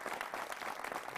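Audience applause at a Hindi satirical poetry event, a faint, dense patter of many hands clapping at once, steady and distant for just over a second with no voices.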